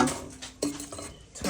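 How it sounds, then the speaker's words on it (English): A spoon stirs coconut rundown with saltfish in a pot, making close, light metallic clinks and scrapes in a brief, uneven sequence. "I'm gonna give it a little stir."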